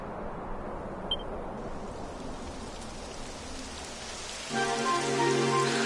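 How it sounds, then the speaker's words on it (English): Steady rain in Dragon Quest XI patters in a dense, even wash, with a brief click partway through and a louder layer of tonal sound swelling in near the end. "It would have to go and start raining, wouldn't it?"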